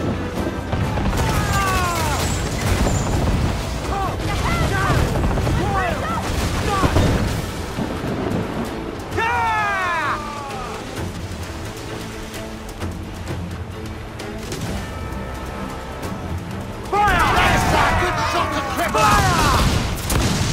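Repeated booming ship cannon blasts and crashing impacts in the video game Assassin's Creed IV Black Flag roll over a dense, noisy naval battle soundscape, with shouted crew orders cutting in throughout.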